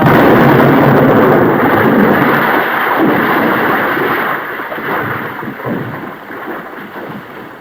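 Explosion as American troops blow up the Nazi Party emblem after Germany's defeat, a loud broad rumbling boom with no clear separate onset that rolls on and slowly fades over several seconds, with no voices.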